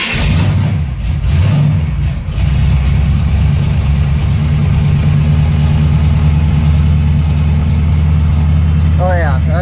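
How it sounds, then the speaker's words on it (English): A V8 truck engine, a small-block in a Chevrolet S10, cold starts roughly, then idles loudly and steadily with a deep, rumbling throb, running continuously close by. "Let's give her a nice little cold start."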